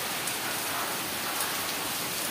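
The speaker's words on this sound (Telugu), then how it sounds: "బీభత్సంగా పడుతుందండి వర్షం అయితే." Heavy rain pours down in a dense, constant hiss, loud and close, with no voices.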